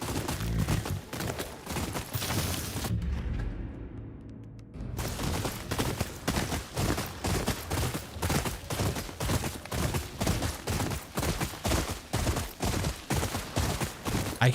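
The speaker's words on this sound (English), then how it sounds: "I can hear gunshots." Gunfire rings out in the video game Ghost of Yotei, a rapid string of sharp repeated shots that stops briefly for a couple of seconds and then resumes in a steady, dense rhythm, loud and close.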